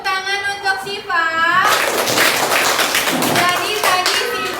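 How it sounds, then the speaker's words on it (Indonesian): A classroom of pupils breaks into lively, dense applause during a school lesson. The clapping starts right after a teacher speaks and continues loud and close, with voices still mixed in under it. "kasih tepuk tangan untuk Siva."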